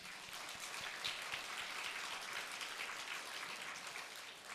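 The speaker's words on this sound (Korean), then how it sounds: "박수 올려드립니다." A church congregation gives a round of applause during a Sunday service, a quiet, distant patter of many hands clapping steadily throughout.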